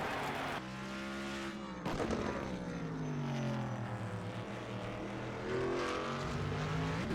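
Race cars running on the Road America circuit during a HORL Friday night heat, engines rising and falling in pitch as cars pass, a steady roar of several machines at moderate distance.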